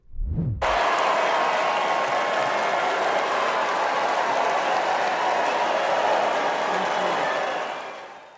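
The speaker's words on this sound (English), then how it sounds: "She was greeted by cheers and some boos from the convention crowd" Convention crowd at the Republican National Convention in Milwaukee erupting in loud, sustained cheering and applause with scattered boos as a speaker steps up, a dense wall of crowd noise lasting several seconds before fading.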